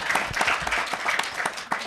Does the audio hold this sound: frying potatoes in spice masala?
no